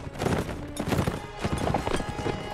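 Horse hooves gallop in the medieval combat video game Mount and Blade Warband, a dense, continuous clatter of clip-clopping mixed with busy battle noise, loud and close throughout.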